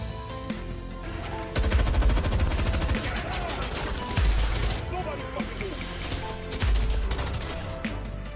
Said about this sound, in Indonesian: Dan terjadilah baku tembak di sana.